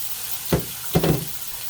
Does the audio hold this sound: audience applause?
no